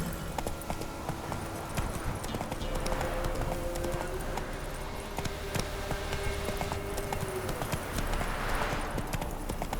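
In The Witcher 3 video game, a horse's hooves clip-clop in a steady, continuous walking rhythm throughout, set against soft outdoor game ambience.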